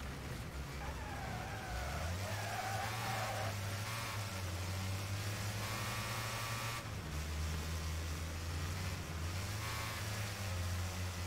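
Racing cars in Wreckfest drive steadily along a track, a continuous droning engine note shifting pitch as the car changes gear, with faint tyre and other car noise underneath.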